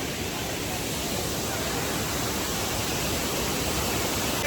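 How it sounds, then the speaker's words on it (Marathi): A large waterfall roars with fast-flowing water, a dense, unbroken rushing noise that stays loud and even from start to finish. "कसलं पाणी वाहतं आता बघा एकदम स्पीड मध्ये"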